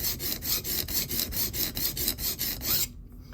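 A knife with a damaged edge is drawn across a sharpening stone in about a dozen steady, rhythmic rasping strokes, close and clear, ending with a short pause.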